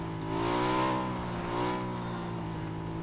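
A car engine in the PUBG video game hums steadily and swells twice as the vehicle speeds along, the tone rising and falling with throttle, loud and close with no talking.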